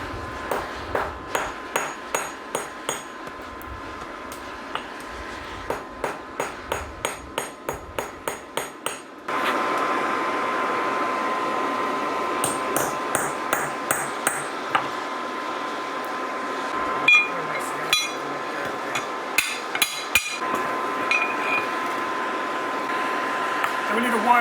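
Steel is struck repeatedly on an anvil, sharp ringing hammer blows coming in quick even bursts with pauses between, over a steady roar from a forge blower in a simple blacksmithing setup.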